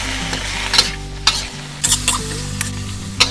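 Salted radish (chai po) and garlic stir-fried in hot oil in a wok, a steady close sizzle broken by several sharp scrapes and clacks of the spatula, no talk.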